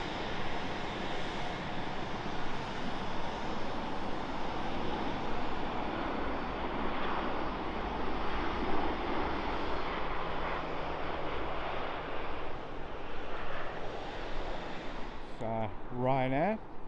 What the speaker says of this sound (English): 737 coming in from Rome.